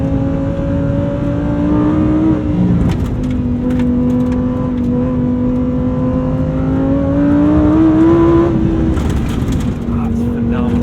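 A Lamborghini Huracan STO engine roars steadily at close range, its pitch climbing and dropping as it revs through gear changes, loud and continuous.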